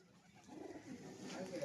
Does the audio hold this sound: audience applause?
no